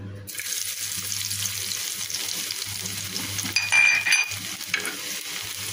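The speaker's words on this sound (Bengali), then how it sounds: "তো এই রসুনগুলোকে একটু ফ্রাই করে নেব।" Thin slices of garlic fry in oil in a pan with a steady, close sizzle, broken briefly midway by a sharper hiss and a light clatter.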